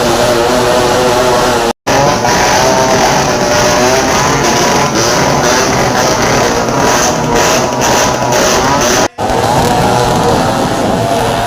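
Vehicles are raced through village streets during a Bhim Jayanti festival procession, giving loud, continuous engine roar and revving that stays close throughout, with two brief dropouts.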